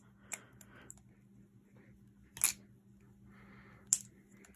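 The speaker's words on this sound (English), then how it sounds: "Nice clickety clack. Flipping extra hard so you can hear it." A Squid Industries Squiddy balisong trainer flipped hard, giving a few sharp separate clicks and clacks close up over a quiet hum.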